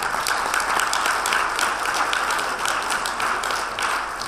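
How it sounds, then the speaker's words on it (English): Audience applauding panelists at the end of a conference panel, a steady sustained patter of many hands clapping at moderate loudness with no talking. "A big round of applause for our panelists today."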